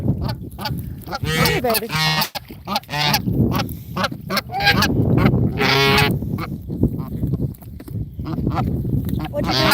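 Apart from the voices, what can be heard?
pet goose honking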